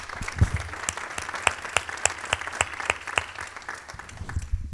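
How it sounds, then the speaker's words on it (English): Audience applause at a nonprofit awards ceremony: a modest crowd clapping, individual claps distinct and fairly rhythmic, moderately close, with a faint voice near the start and fading toward the end. "A round of applause."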